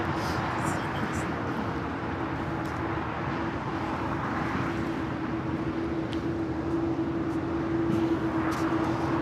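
A British Airways jet bound for London Heathrow rolls down runway 25 right at LAX, a steady broad engine roar with a sustained tone holding throughout, fairly distant and continuous.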